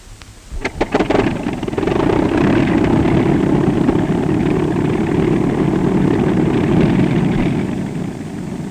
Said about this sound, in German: lassen die Motoren warm laufen